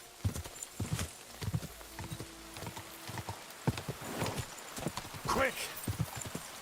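Hooves clip-clop in a steady galloping rhythm as a horse is ridden in Kingdom Come Deliverance 2, close and distinct, with a brief whinny and a voice speaking over part of it.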